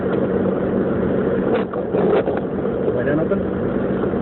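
A car engine drones steadily from inside the cabin during a night drive in a winter storm, a constant low rumble with people talking over it.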